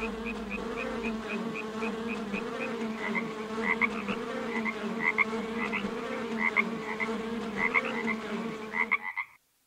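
Frogs croak in steady, rhythmic pulses alongside a constant buzzing drone of insects like bees or flies, a dense chorus that carries evenly throughout before cutting off abruptly at the end.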